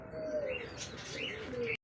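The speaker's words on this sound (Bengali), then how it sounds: "দর্শক বন্ধু আমরা দেখতে পাচ্ছি রেড কালার মতো একজোড়া বোম্বাই কবুতর" A pair of red Bombai pigeons coo faintly in a short, continuous soft warble heard close but at low volume, with no talk over it.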